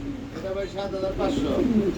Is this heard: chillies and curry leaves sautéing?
no